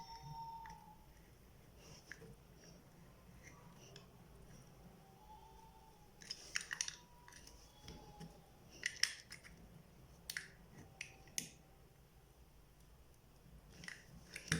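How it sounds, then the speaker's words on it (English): A utility knife trims the edge of a handmade shoe insole (footbed), giving quiet, irregular scraping cuts and sharp clicks that cluster in short bursts, mostly in the second half, close by with no talking. "you can use your utility knife to trim it"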